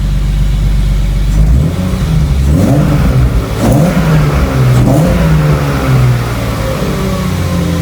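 A BMW E30 straight-six that would not rev above 4000 before now runs on all six cylinders. It idles with a deep rumble, then is blipped several times, each rev climbing and falling back, loud and close.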